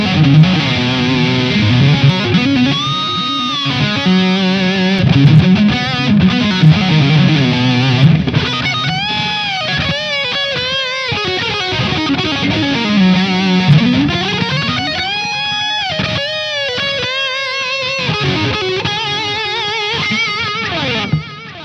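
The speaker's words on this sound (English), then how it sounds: "Let's throw a delay on here too." A distorted electric guitar with a metal tone plays sustained notes and bends, each phrase trailing into repeating delay echoes; loud and continuous with no voices.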